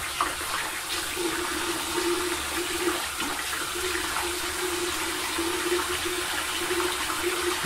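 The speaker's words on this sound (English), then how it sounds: "Go ahead and throw some hot water in it." Hot water pours steadily from a tap in a continuous rushing stream, close by, with no talking.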